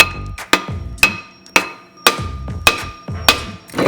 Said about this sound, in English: this rotor has probably been on here since dinosaurs existed, we are going to literally have to beat it off